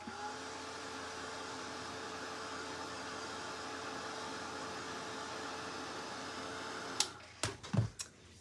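A hair dryer blows steadily to dry the first coat of paint on a hand-painted candy corn Santa figure, a constant close whir that cuts off abruptly near the end, followed by a few sharp clicks and knocks.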